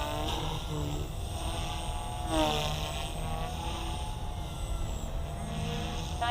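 A Blade Fusion 180 RC helicopter's rotor spools up in idle up mode, producing a steady close buzzing whine with a rising pitch sweep partway through, heard alone.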